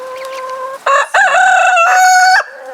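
Chickens cluck and a rooster-like crow rings out loudly nearby, sustained calls from a few birds with no talking.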